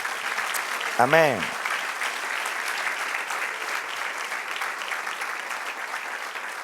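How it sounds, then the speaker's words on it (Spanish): A church congregation applauds steadily during a sermon, a moderate wash of clapping that runs throughout, with one voice briefly calling out near the start. "Dele aplauso a Jesús."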